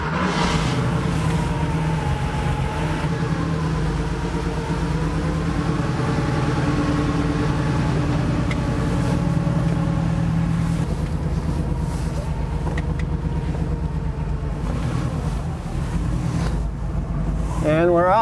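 A Porsche 3.2 Carrera's engine runs steadily on a shakedown drive, a continuous low rumble with gentle shifts in pitch as it pulls along, wind noise mixed in and someone talking over it.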